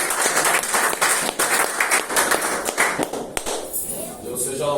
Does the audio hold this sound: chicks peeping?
no